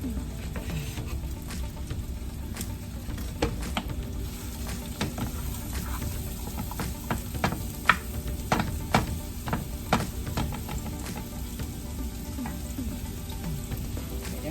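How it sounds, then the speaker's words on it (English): Onions and a heap of mixed vegetables sauté in oil for turmeric rice, giving a steady close-up sizzle and crackle with scattered sharp pops and spoon scrapes throughout, with no talking. "Because I got a lot of veggies and I want to saute them."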